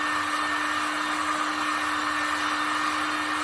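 A heat gun blows hot air onto glued-on furniture moulding, a steady, loud, close whooshing roar with a constant motor whine and no pauses or voices.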